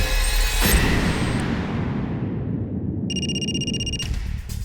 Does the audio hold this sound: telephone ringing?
yes